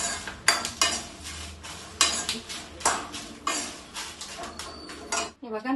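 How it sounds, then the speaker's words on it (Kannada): Green chillies fry in a pan with repeated metal spoon scrapes and clinks against the pan as they are stirred, a soft sizzle running beneath the close, irregular clatter. "ಮೆಣಸಿನ್ಕಾಯಿ ತುಂಬಾ ಚೆನ್ನಾಗಿ ಫ್ರೈ ಆಗಬೇಕು."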